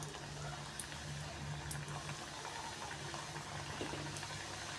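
Balushahi dough pieces frying in hot ghee in a home kitchen, a soft, steady bubbling sizzle with faint crackles, continuous and quiet throughout with no talk.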